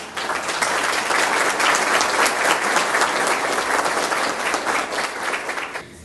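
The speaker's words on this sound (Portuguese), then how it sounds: "Palmas para o tio Beijo" A studio audience on a Brazilian television program applauds for tio Beijo, with full, sustained clapping from many hands that swells quickly, stays strong for several seconds, then tapers off at the end.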